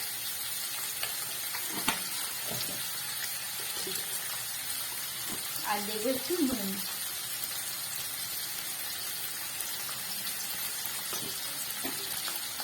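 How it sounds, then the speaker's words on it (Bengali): Chopped potato, spring onions and onions fry with salt and turmeric in a pan, making a constant dense hissing sizzle with occasional stirring knocks, and a brief spoken remark partway through. "পেঁয়াজ কলি আর পেঁয়াজ, এটাকে আমি একটু ভালো করে ভেজে নেব।"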